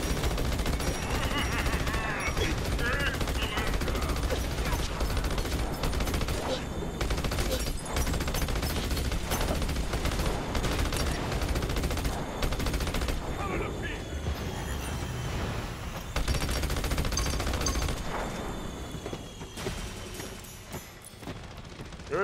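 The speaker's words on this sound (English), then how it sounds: "Ice bullets!" Ice bullets fire in rapid automatic bursts in the video game Battleborn, a dense, continuous barrage of gunfire with booming impacts, mixed with game sounds and voices.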